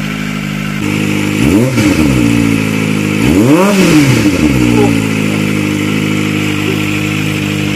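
A loud Kawasaki Ninja ZX-25R motorcycle idles close by, then its engine revs up and down twice in quick throttle blips before settling back to a steady idle.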